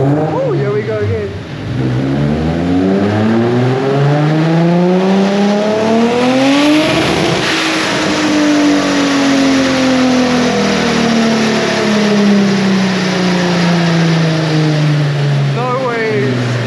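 A boosted Honda B18 engine in a car strapped to a dyno revs hard, its loud rising whine climbing through the gears and then winding down in a long falling drone, with people talking over it.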